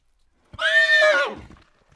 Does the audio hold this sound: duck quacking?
no